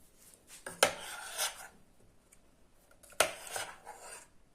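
A spoon scrapes and clinks against the bottom of a pot of thick chocolate mixture, with two sharp knocks and a few shorter rasping strokes at an uneven pace, fairly close and with no voices.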